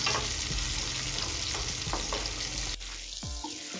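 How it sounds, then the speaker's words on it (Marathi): Chopped tomatoes sauté with onions in a pan for aloo masala sandwich filling, a dense steady sizzle with a few stir scrapes, then the hiss drops abruptly near the end. "आता यामध्ये कट केलेले टोमॅटो ॲड करून घ्यायचं टोमॅटो छान मेल्ट होईपर्यंत परतून घ्यायचं आहे आपल्याला"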